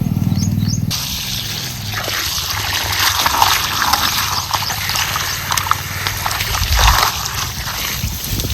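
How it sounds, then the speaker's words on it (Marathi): Wild leafy greens muddied by the monsoon are washed by hand in water, with close, irregular sloshing and splashing that builds in bursts over a continuous watery churn. "2 पाण्याने आपल्याला भाजी ही धुवून घ्यायची।"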